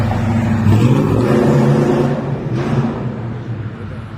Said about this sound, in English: There's a nice little old car right there.